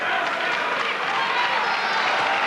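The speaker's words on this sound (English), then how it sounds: "he gets an appreciative clap from the crowd" A boxing arena crowd at Lloyd Honeyghan vs Jorge Vaca breaks into a broad wash of clapping and murmur, sustained and fairly loud, with a commentator's voice mixed in.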